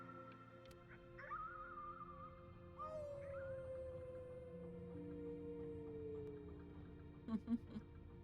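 A long, wavering howl at the moon rises and slowly falls in the video game Before Your Eyes, with a few faint clicks at the end.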